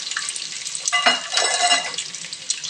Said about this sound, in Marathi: त्यानंतर लसूण टाकायचा. लसूण चांगलं फ्राय होऊ द्यायचं.